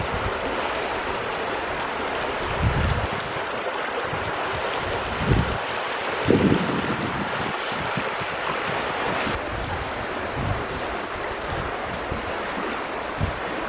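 Eagle Creek flowing beneath a road bridge near a covered bridge in Ripley, Ohio, a continuous rushing babble of water with gusts of wind rumbling on the microphone and occasional low thumps.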